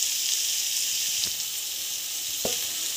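Onions sizzle with salt in a hot pan, a loud, steady frying hiss throughout, broken by two faint stirring clinks partway through.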